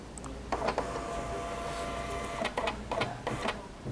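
A Daruma receipt printer prints an X reading, buzzing steadily for about two seconds, then giving several shorter bursts of paper-feed clatter. It is close and alone, with no talk.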